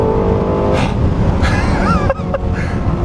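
Lexus LFA supercar engine roaring loudly and steadily throughout, with brief rising whines as it revs through gears, close and continuous with no talking.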